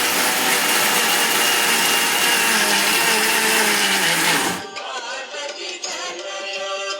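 An electric wet grinder churns pearl millet idly/dosa batter with a loud, steady motor whir that abruptly drops to a lighter, rattling grind.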